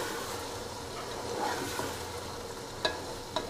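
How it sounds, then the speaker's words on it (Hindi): Green chillies frying with green chickpeas and spices in a pan, a soft continuous sizzle and stirring hiss over a few seconds, ending with two brief utensil taps. "अब हम इसमें हरी मिर्ची ऐड कर देंगे। और इनकी भी हम तकरीबन 1 मिनट तक भुनाई कर लेते हैं।"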